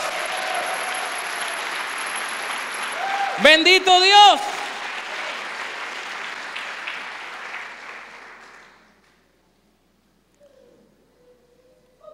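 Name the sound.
congregation applauding in church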